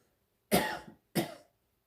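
Two close, fairly loud coughs about half a second apart, each a sharp burst trailing off, from a person with back pain at a homestead, with quiet around them and no talk.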